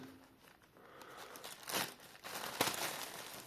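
Packaging crinkles and rustles as a parcel from an online auction is opened, with soft handling followed by two sharper bursts of crackling plastic or paper; close, moderately quiet, and without speech.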